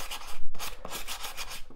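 Sandpaper rubs back and forth over a rounded wooden edge of a model railway viaduct, a few close, rasping strokes with brief pauses between them.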